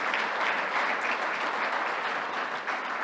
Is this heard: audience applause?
yes